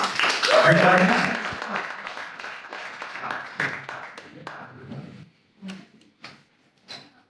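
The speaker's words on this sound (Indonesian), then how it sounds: "Boleh tepuk tangan untuk" An audience claps as a horror illustrator takes the stage at a gathering. A full burst of clapping is heard at first, then it dwindles into scattered claps and taps amid quiet voices.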